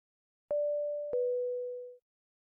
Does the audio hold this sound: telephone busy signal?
yes